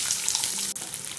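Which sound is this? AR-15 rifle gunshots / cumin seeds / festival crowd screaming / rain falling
cumin seeds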